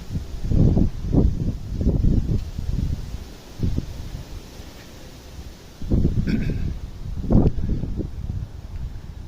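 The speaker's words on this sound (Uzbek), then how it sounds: "Shamol bo'lyapti yaxshigina." Strong wind gusts buffet the microphone in low, rumbling bursts, swelling and fading irregularly over a steady outdoor background.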